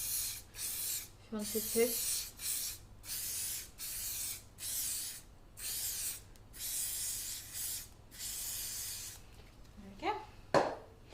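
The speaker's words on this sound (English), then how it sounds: "So I'm spraying it inside, but then a little bit on the over as well" Cooking spray hisses in repeated short bursts as it coats the inside of a muffin tin and a little of its top, about ten close spurts separated by brief pauses, with a quiet voice speaking near the end.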